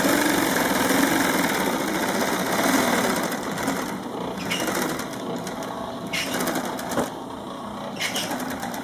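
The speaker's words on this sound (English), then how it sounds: "what that requires is a special machine called a tape edge machine" A tape edge sewing machine stitches two pillow top layers together, its motor running in a steady, continuous whir from start to finish with faint mechanical ticks layered over it.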